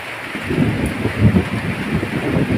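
Low thunder rumbles through a steady evening rain shower in cool weather, with soft rolling peaks over the constant hiss of falling rain and no voices.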